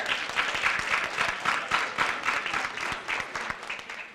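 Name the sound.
audience applause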